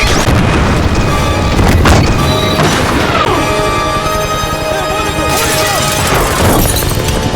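Heavy booming blasts and crashing impacts ring out in a loud, dense battle soundscape, with a couple of deep cannon-like shots standing out.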